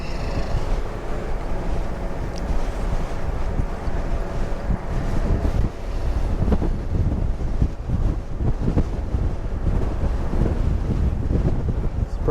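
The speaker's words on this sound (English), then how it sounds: "It's pretty windy." Strong, steady wind buffeting the microphone while riding an e-bike uphill into a headwind on a coastal path beside Highway 1 at Wilder Ranch State Park, Santa Cruz, California, a continuous low roar with gusty surges throughout.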